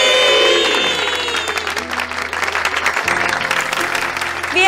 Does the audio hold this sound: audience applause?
yes